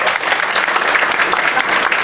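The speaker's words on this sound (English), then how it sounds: "let's give a round of applause." A dense, steady round of applause from a group at a real estate sales meeting, loud and close throughout the short stretch, with no voices over it.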